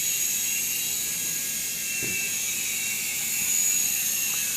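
A Syma S107H RC toy helicopter with altitude hold hovers, giving a steady, high-pitched whirring whine from its small rotors and motor that holds evenly throughout, close by and uninterrupted, with no talking.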